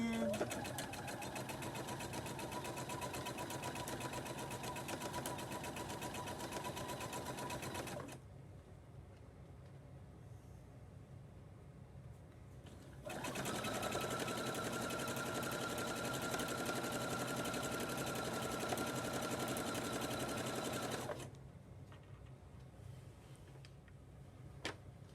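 A sewing machine stitching fabric for a kitchen boa or scarf, a close, steady mechanical whir with rapid ticking that runs for several seconds, stops, resumes for a longer stretch, then stops again.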